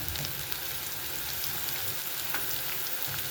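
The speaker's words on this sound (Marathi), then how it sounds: "आता आपण आलं लसूण पेस्ट टाकूया" Ginger-garlic paste dropped into hot oil for a tempering, spluttering in a dense, continuous crackle with scattered pops, moderately close and without any voices.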